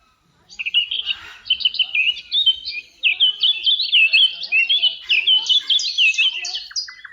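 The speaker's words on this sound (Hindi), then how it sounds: "क्या आप ये चहचहाट सुन पा रहे हैं?" A bird park in Coorg is filled with dense, continuous chirping and tweeting from several birds, bright rapid calls overlapping close by with little pause.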